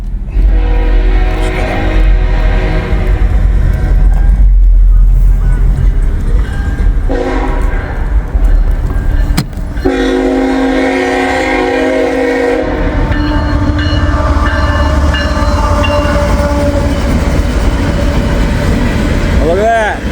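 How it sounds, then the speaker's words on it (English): Coal train passing close by, with loud rumbling wagons, clattering rails and blasts of the train horn, while people talk over the noise. "Got a coal train."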